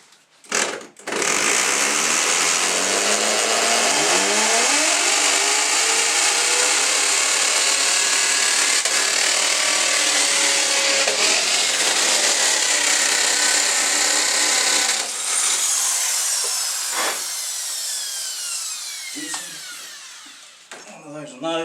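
A hammer drill bores into a solid wall on hammer setting, a loud continuous grinding whine held for about fifteen seconds, then slowing with shorter bursts and stops near the end, close up.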